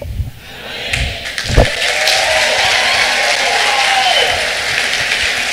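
A church congregation applauds during a sermon, a dense, steady wash of clapping that swells after a few sharp thumps and carries on evenly to the end, loud and close.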